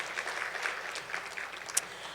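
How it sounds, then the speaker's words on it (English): An audience at a women's political engagement conference gives a round of applause, a steady, fairly quiet patter of many hands clapping with no voices over it. "let's give ourselves a round of applause for showing up"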